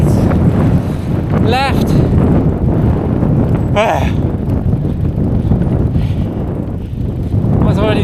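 Strong headwind roars across the microphone while cycling on an asphalt road, a loud constant rushing broken by a few short gusts and brief squeaks, with a rider saying a word.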